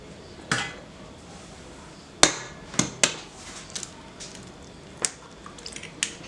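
An egg cracked straight into chocolate cookie dough: a sharp tap, then a few soft wet clicks and squelches, close and fairly quiet with no talking.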